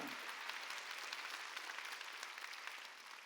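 Applause from a church congregation during a Korean Wednesday worship service: steady, crowded clapping spread through the room, moderately loud and fading a little near the end.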